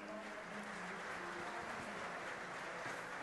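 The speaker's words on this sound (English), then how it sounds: "I will wait a bit for the applause to go away" Audience applause at a technology conference talk, a continuous wash of many hands clapping that holds steady and is heard faintly, as if from a distance.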